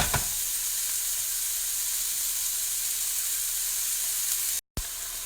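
Vegetables sizzle steadily in a hot pan for butternut squash lo mein, a continuous close frying hiss with a brief dropout near the end.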